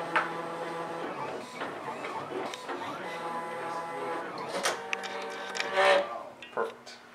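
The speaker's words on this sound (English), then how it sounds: "He's going to start printing it, cutting it." A ClearPlex Express machine prints and cuts a screen protector, giving off steady whirring motor tones with shifting pitches and a few sharper mechanical bursts near the end, close and moderately quiet.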